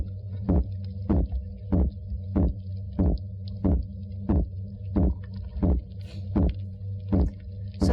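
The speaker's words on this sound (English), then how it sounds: "when they are guarding eggs, they make a completely different sound, and it's a grunt." A fish guarding its eggs grunts underwater in a steady, evenly spaced series of about thirteen low pulses over a constant low hum, with no voices.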